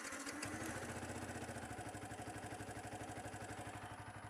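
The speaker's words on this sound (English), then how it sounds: "that's what it sounds like idling" A Yamaha YZF R125 motorcycle engine starts and settles into a warm idle, a close, steady rapid thumping pulse that stays even throughout.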